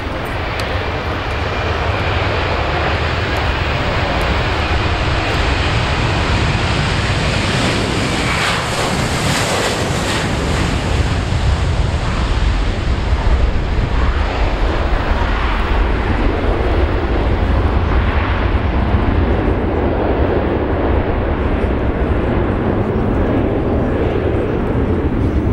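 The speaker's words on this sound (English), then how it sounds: "KC-30A rolling." An Airbus KC-30A heavy tanker rolls for takeoff at the Avalon Airshow, its jet engines a loud, continuous roar mixed with gusting wind noise throughout.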